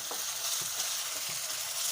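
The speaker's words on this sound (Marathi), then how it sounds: "एक मिनिटभर हा कांदा तेलात परतून घ्यायचा आहे" Steady hiss of onion sizzling in hot oil, with light scraping taps of a spoon stirring the pan, close and continuous.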